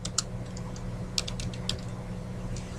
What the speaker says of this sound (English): You can just start typing your word out.